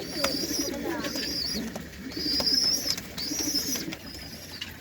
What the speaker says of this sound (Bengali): আমার বাড়ির একজোড়া গিরিবাজ পায়রা শখ করুন